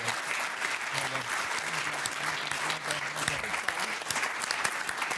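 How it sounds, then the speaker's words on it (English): An audience at an in-person sales and revenue leaders event gives the speakers a sustained round of applause, a dense, even wash of clapping with a faint voice briefly audible underneath. "if you could give our speakers a round of applause"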